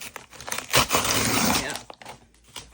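Close crinkling and tearing of plastic packaging, a burst of crackling rustle in the middle with smaller crinkles before and after, no talking.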